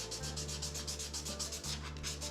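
Guitar frets being polished with 2000 grit sandpaper on a Telecaster build, a steady close rhythmic rubbing with repeated back-and-forth strokes and a low hum underneath, no talking.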